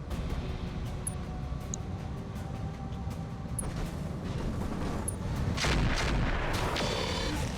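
Mech weapons fire in BattleTech with the RogueTech mod: a dense, rumbling barrage of low booms with a few sharp clicks, swelling louder in the final seconds, with no speech.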